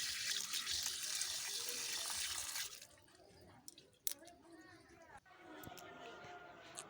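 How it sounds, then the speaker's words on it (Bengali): Water is poured onto three plants, a steady gush and splash lasting a few seconds before it stops, followed by quieter drips and small clatters. "তো আমি তিনটে গাছে জল দিয়ে দিলাম"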